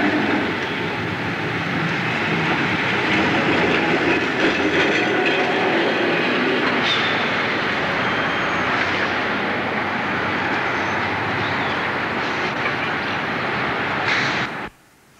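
A St. Charles line streetcar in New Orleans rumbles past close by, a broad, steady roar of wheels and motor with faint rail clatter that fades sharply at the end.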